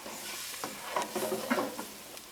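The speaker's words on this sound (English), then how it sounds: "pan is hot because that sizzles right away." Fried rice sizzling and being stirred in a hot pan, a soft crackling hiss with scattered scraping and clicking of the utensil over a couple of seconds.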